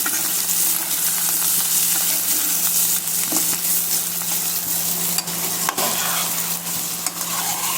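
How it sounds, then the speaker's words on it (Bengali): Bitter gourd fries crisp in oil with a steady, close sizzle throughout, marked by scattered crackles and stirring clicks over a faint low kitchen hum. "আমার করলা ভাজি তেলের উপরে মশমশা করে ভেজে নিচ্ছি আমি"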